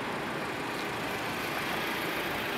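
A car engine runs steadily at a border checkpoint at night, a continuous broadband rumble with no distinct revs, heard alone at moderate level.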